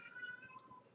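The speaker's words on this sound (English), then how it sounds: "sorry if you can hear my cat in the background" A pet cat lets out a single short, faint meow in the background of an indoor room, brief and quiet against near silence.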